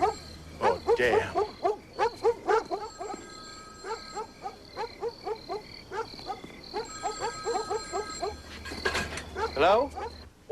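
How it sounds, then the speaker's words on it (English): Dogs bark in a rapid, repeated series of sharp yaps that come in bursts and run throughout, fairly close, with a ringing telephone-like tone sounding behind them. "Why are the dogs barking?"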